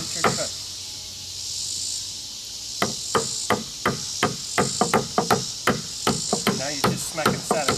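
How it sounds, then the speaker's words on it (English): A knife blade is smacked flat-side-on while a child learns cutting skills at home, giving a string of sharp, close knocks, sparse at first and then quickening into an irregular run of about twenty hits over low background noise. "Now you're just smacking the side of the knife."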